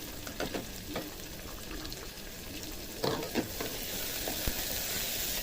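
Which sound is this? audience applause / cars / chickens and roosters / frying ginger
frying ginger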